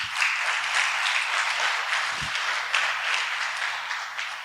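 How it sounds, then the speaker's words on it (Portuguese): A church congregation applauds in a sustained, even wash of clapping that fills the room, with one brief low thump partway through. "Aplauda Jesus pela vida deles."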